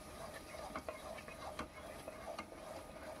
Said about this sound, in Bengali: এবার এখানে ভেজে রাখা আলুগুলো দিয়েও আমি ভালো করে নাড়িয়ে চাড়িয়ে নিচ্ছি